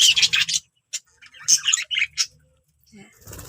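Young budgerigar chicks just out of the nest give bursts of high, thin chirps, close by, in short clustered runs with brief pauses between.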